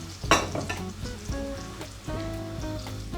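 Garlic frying in oil in a pan for masoor dal as it turns brown, a close, continuous sizzle and crackle with a few clinks, no talking.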